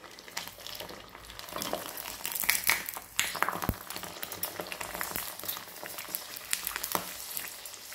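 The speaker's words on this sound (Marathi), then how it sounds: "आता या ज्या पापड्या आहेत त्या मी तुम्हाला तळून दाखवते" Sabudana and potato papad frying in hot oil in a kadhai, a steady crackling sizzle with bursts of bubbling, close and fairly quiet, no voices.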